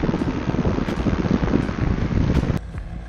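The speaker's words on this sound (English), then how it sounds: "Wow, the wind is nasty. And the higher I go, the nastier it gets." Strong gusts buffet the microphone in a steady, heavy rumble while a drone climbs higher, cutting off abruptly near the end with no talk.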